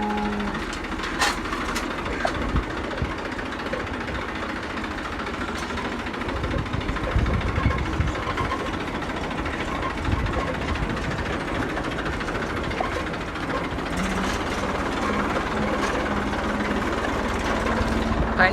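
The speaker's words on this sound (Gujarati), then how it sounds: "ટ્રેક્ટર બાંધીને હવે લઈ જઈએ છીએ અમે ગેરેજ પર." A farm tractor being towed to a garage gives a steady low engine rumble with rattling and clanking over it, moderately loud and continuous, swelling a little midway.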